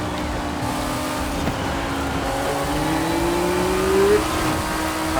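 A 2013 Audi R8 V10 Plus in a racing game wails at full throttle, its engine tone climbing steadily in one long rising rev before easing, loud and close with no talking over it.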